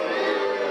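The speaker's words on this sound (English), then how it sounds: "Everyone's booing their hearts out, Chris." Wrestling show crowd booing loudly and steadily, a dense wall of voices over a brief moment.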